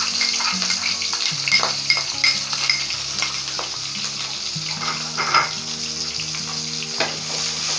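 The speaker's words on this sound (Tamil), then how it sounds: "ஆயில் சூடாயிடுச்சு, ஆனியனை போட்டுக்குவோம்." Onions sizzle steadily in hot oil for a spicy mint chicken dish, with the crackle of frying close and loud, punctuated by repeated scraping stirs of a utensil against the pan.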